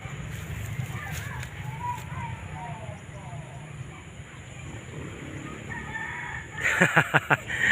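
A rooster crows over steady outdoor background noise on a farm with cucumber crops, with sharper clucking or pecking sounds near the end.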